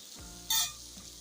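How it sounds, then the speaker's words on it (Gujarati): Chopped onion and garlic frying over low heat in a pan, a steady soft sizzle with one brief louder burst as the mixture is stirred. "ડુંગળી લસણ ને બધું આપણે એને આ રીતે ધીમા દેશે બે મિનિટ માટે ચડવા દેશું"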